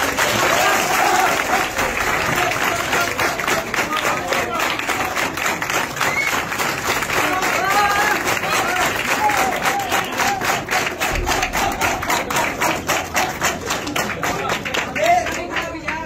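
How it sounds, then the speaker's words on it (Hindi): A live show audience applauds to welcome a guest, with loud, sustained, dense clapping and some cheering and crowd noise from start to finish. "तालियों से स्वागत"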